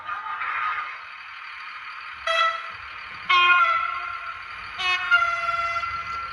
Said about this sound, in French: on sent qu'il y a deux types de klaxons différents